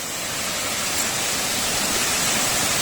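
Rushing water at Mae Po Khi waterfall, a dense steady roar heard close and continuous with no voices.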